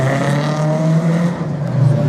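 Peugeot 206 race car in the Group F2000 class on a slalom course at Saint-Lô, its engine a steady, loud drone held close throughout with slight swells in pitch.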